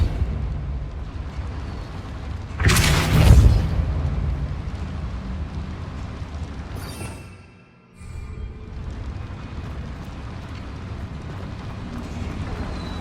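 A single Depulso spell blast in Hogwarts Legacy bursts out loud and broad, then fades into ongoing game ambience, followed by a sudden brief drop in sound.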